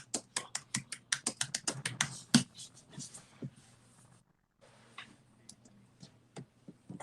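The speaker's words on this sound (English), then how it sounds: "Let me start typing." Fingers type on a computer keyboard close by: a rapid run of crisp key taps, then slower, sparser clicks after a short pause, with no talking over them.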